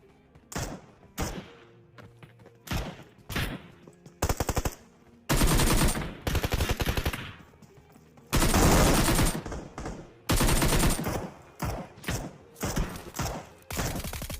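Rapid automatic gunfire from a battle royale shooter game comes in loud, dense bursts and sustained volleys, separated by short pauses, with no talking.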